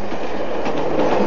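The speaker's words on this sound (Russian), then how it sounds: "по нему уже идет поезд по Амплодаму, по моим дорогим тоннелям" A train runs through a tunnel on the Baikal–Amur Mainline, a loud, steady rumble of wheels and rail noise filling the brief moment without any voices.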